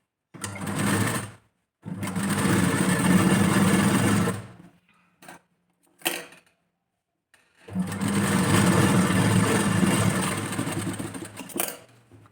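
A sewing machine stitches a blouse in two long bursts of fast, steady whirring, separated by short pauses and brief clicks, close and loud with no talking.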